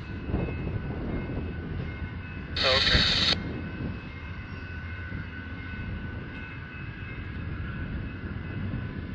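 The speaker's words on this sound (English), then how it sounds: "We're lucky to catch that train as the Amtrak map is completely" Amtrak California Zephyr train number 6 departs Fort Morgan on a Sunday night, a steady low rumble throughout with a brief high horn-like tone partway in.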